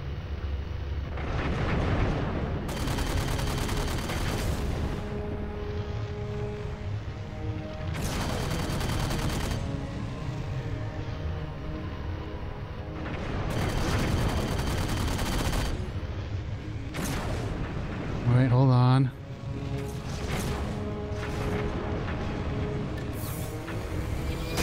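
Bursts of gunfire in Halo 4 come in several long, loud broadband volleys separated by short lulls, with a droning game soundscape running between them.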